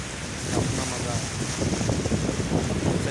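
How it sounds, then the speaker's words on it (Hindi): Morning sea waves at a Karachi beach wash in a steady, broadband roar with heavy wind buffeting the microphone, continuous and fairly loud throughout. "कराची समुंदर की मज़ेदार लहरें, सुबह सुबह मॉर्निंग वॉक अपना मज़ा।"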